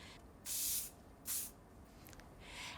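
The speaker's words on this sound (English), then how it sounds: "spray a little bit of hairspray on it just to keep the hold" A couple of sharp aerosol spray bursts, close and hissing, followed by a fainter, shorter spritz near the end.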